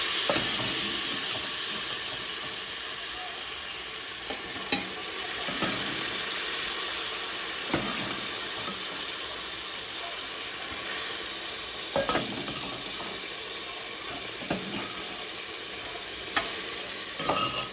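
Cooked chicken is stirred into a sizzling pressure cooker pot, giving a steady close frying hiss with occasional sharp scraping stirs, no voices.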